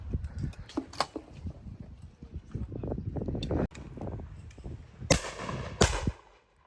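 Shotgun fire at a simulated game shooting day at Patson Hill Farm Sporting Club: two sharp, loud reports late in the clip, one after the other, over wind noise and outdoor rumble.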